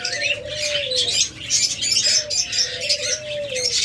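Caged pet birds offered in pairs at a bird sale, a mix that may include lovebirds, budgerigars, cockatiels and doves, give busy, overlapping high chirps and tweets over two longer, gliding coo-like calls, all close by.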